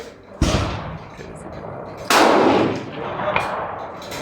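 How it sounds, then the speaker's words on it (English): Two loud CZ 527 rifle shots are fired on an outdoor range at targets 500 yards away. Each gives a sharp crack, and the second is followed by a long, rumbling tail over steady background noise. "we're going to take some shots at 500 as did earlier"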